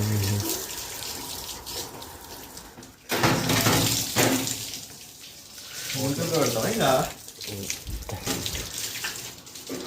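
Water running from a tap during washing at a puja ritual, gushing in uneven surges with clinks of objects, while voices speak faintly.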